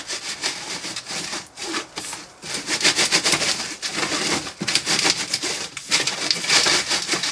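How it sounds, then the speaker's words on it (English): Green moulding sand, damp foundry sand, being shaken through a riddle sieve, giving a steady gritty rubbing and scraping that runs in continuous pulses with brief pauses, fairly close and with no talking. "the first bit of sand goes through a riddle with what they call green sand"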